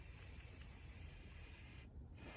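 A spray paint can hisses in a steady, quiet stream while paint is applied outdoors for a model tree project, with one short pause in the spray near the end.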